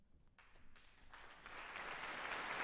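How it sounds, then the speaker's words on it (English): Concert audience applause for the concertmaster, Donald Armstrong, swells from scattered claps into dense, sustained clapping that grows steadily louder across the hall. "That applause for the concertmaster for this concert, Donald Armstrong."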